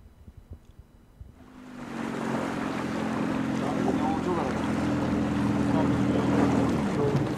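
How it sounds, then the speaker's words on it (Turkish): A Coast Guard patrol boat heads out to sea off Turkey's Aegean coast. After a quiet start, a steady engine drone and rushing water noise build up with wind buffeting the microphone. "Sahil Güvenlik Komutanlığı'na ait botla denize açılan ekipler"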